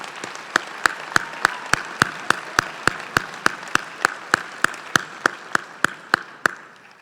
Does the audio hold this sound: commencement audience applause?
yes